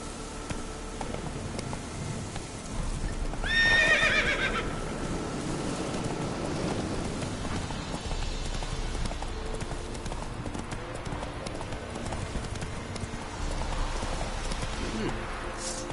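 Geralt's horse Roach galloping in the video game The Witcher 3, a continuous rhythmic pounding of hooves under ambient game sound, with a short bird-like honk partway through.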